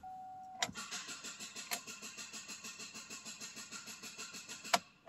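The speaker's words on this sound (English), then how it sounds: "So now the car will start." A Chevrolet Cruze with an intermittent no-start fault cranks over, the starter churning in a steady rapid rhythm for several seconds after a click, with a few sharp clunks, close and loud.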